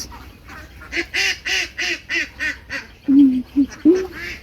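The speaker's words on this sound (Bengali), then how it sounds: "এই দেখো হাঁস, দেখো কতগুলো হাঁস, অনেকগুলো হাঁস" A flock of ducks in a Bangladeshi village quacks in a rhythmic series of close, loud calls, followed by a few deeper honking quacks.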